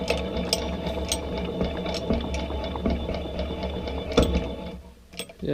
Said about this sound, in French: Voilà comment rincer un bas moteur.